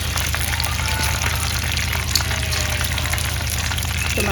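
Battered food sizzles steadily in hot oil in a home kitchen. A dense, continuous crackle and hiss comes from close by, with faint scattered pops and no talk over it.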